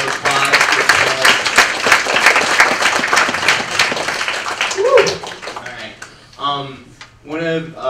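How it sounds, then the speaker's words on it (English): A student audience at a Hope College address applauds; steady, fairly loud clapping fills most of the stretch, then thins out as a voice begins speaking near the end. "A round of applause."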